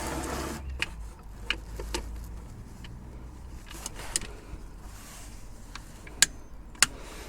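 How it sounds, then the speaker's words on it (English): A torque wrench tightens a gearbox bolt on a Mk5 VW Golf R32. Soft, scattered ratcheting clicks are heard close up, followed by two sharper, distinct clicks near the end against quiet workshop background. "Okay, torque wrench in hand. Time to get this tightened to 30 Newton meters."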